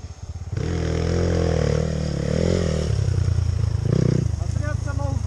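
A motorcycle engine revs while riding, loud and close, its pitch rising and falling across the clip, with shouting voices over it.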